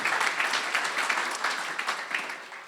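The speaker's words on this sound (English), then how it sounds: "So let's give them a round of applause," A crowd at the California Teaching & Coaching Summit gives warm, continuous applause of many hands clapping together. It is fairly close and holds at a steady level for a few seconds, with no one speaking.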